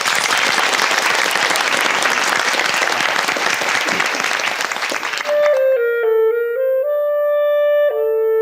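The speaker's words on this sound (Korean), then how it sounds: "박수로 청해 보겠습니다." A studio audience at a Korean quiz show bursts into loud, dense applause for about five seconds before it cuts off and a clarinet begins playing sustained melodic notes alone.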